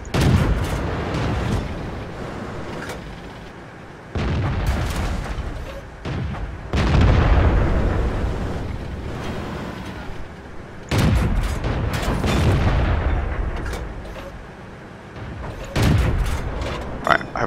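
Tank guns firing in a video game: several loud, booming cannon shots with long rumbling decays, arriving in irregular bursts and reverberating heavily throughout.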